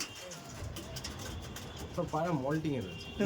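In a loft of Andhra racing pigeons, soft warbling coos rise over the low bustle of the birds, while someone talks nearby.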